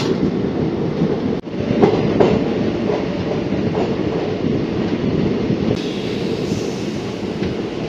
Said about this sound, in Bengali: চান্ডিল জংশনে আমাদের এই চক্রধরপুর এক্সপ্রেস ঢুকলো, এই ঢুকে গেল।